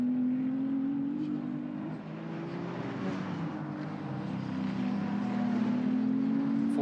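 Ferrari Challenge race cars at Okayama circuit, a steady loud engine drone with shifting pitch as cars race past, continuous and close, no talk.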